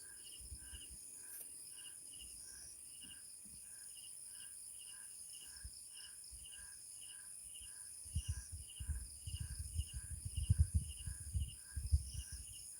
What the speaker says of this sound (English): there's crickets too, actually